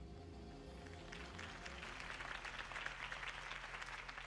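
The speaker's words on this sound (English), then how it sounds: "could have heard that applause" Crowd applause from a political campaign rally for Harvey Dent in the Batman Telltale video game, a faint, steady patter of clapping swelling slightly, heard at a distance over a low hum.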